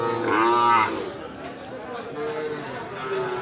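Indian Sahiwal cattle, bulls brought across the border, low at a livestock market with one loud, close, drawn-out moo, followed by a murmur of voices and crowd noise.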